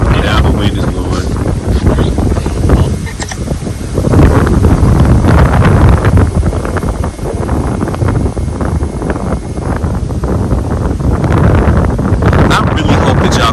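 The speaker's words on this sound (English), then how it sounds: "the wind is blowing" Strong wind buffets the microphone in a continuous low roar, gusting louder at times, with a voice speaking underneath.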